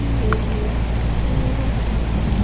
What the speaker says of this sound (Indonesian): Ini hujan nih